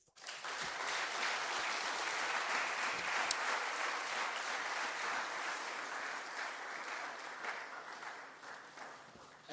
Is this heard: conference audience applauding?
yes